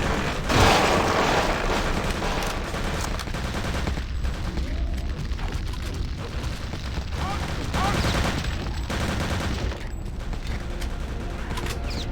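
Heavy gunfire and explosions in the shooter game Return to Castle Wolfenstein, dense loud bursts of automatic fire with booming blasts running nonstop through the clip.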